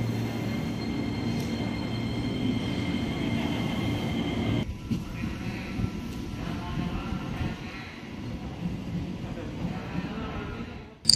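Trains rumble through Manggarai station in Jakarta, a steady low rolling drone with faint metallic squeals and station hum, moderately loud, ending in a sharp brief clatter.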